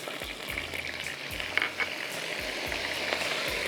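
Ginger garlic paste fries in hot oil in a karahi, giving a steady, close sizzle and crackle that holds throughout with small stirring bumps and no voices.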